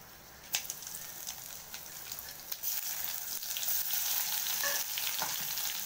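Whole spices sizzle and fry in hot oil in a pan on the stove, a steady loud crackle with sharp pops and occasional stirring scrapes throughout.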